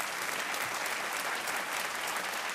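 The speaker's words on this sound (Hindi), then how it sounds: "तालियां बजती रहें देवियों और सज्जनों" Steady, dense studio audience applause on a Hindi television quiz show set, loud and continuous without pause, with no voices standing out.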